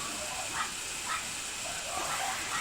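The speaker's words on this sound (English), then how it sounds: "My dogs are barking." Several dogs bark faintly in the background, a few short yaps spaced out over a steady low hiss of room noise.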